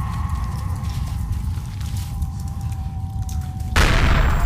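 Explosions and gunfire in the video game 1916: The Unknown War give a dense rumbling battlefield din of low booms, with a louder blast near the end.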